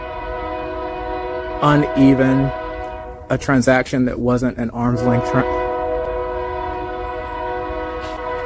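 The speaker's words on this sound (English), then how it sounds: "Right at that moment, we hear the train" A train horn sounds in long, loud, sustained blasts, one shorter and one extended, over the rumble of the passing train, while a person keeps talking underneath.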